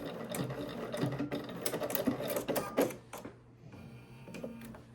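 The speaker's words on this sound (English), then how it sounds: "So now we're just going to do a zigzag stitch." A sewing machine runs a zigzag stitch for a seam finish, giving a rapid, steady mechanical whir with clicking bursts that stops near the end, leaving faint quieter handling noise.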